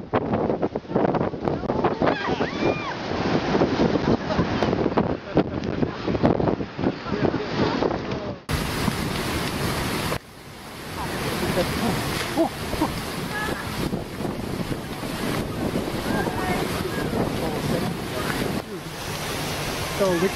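Ocean waves surge and crash onto the shore in a steady, loud roar, with heavy wind buffeting the microphone throughout and no voices.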